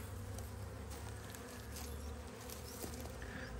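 Honey bees buzz around a hive holding a swarm in a dense, continuous hum close by, a steady swarm drone with no voices.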